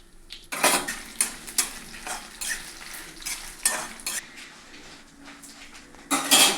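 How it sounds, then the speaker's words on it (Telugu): Dry red chillies frying in a pan for a Telugu dried-chilli tomato chutney, stirred with a spoon that scrapes and clinks against the metal in repeated bursts alongside a soft sizzle, close by with no talk. "ఇప్పుడు మిరపకాయలు అయితే వేగిపోయినాయి, తీసేద్దాం."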